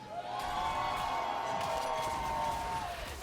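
A large live crowd cheers for MrBeast at the Ultimate Crown event in Las Vegas: a steady, loud roar with a sustained shrill tone running through it, no clear speech.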